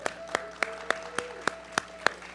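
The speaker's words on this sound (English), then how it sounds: "So please applaud him all the way to the stage." At a poetry open mic, a small audience claps steadily for a performer walking to the stage, sharp, evenly spaced claps near the microphone over a faint hum and a low background tone.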